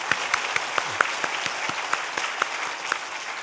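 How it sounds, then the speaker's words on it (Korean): Church congregation clapping together, a dense, even round of applause with sharp rhythmic claps standing out, filling the room at moderate volume. "우리 하나님께 영광의 박수 한번 할게요."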